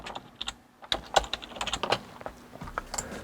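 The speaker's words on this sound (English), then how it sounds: "I'm going to type my name" Keys tapped on a computer keyboard while a name is typed, in short irregular bursts of close, crisp clicks with brief pauses, no talking.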